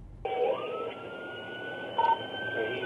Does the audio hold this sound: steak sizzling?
no